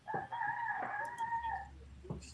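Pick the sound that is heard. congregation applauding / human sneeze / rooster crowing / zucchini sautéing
rooster crowing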